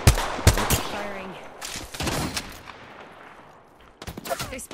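Gunfire in an Apex Legends match: sharp shots and short bursts ring out, loud and close, with gaps between volleys and a further cluster near the end, while voices talk in between.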